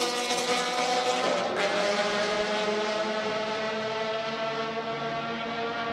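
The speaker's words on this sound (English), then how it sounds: "A naturally aspirated F20 and a Hachi keeping up with a boosted Subaru." Race cars lapping Circuit of the Americas during a time-attack session, including a naturally aspirated F20 and a turbocharged Subaru, a steady loud engine drone at high revs held throughout.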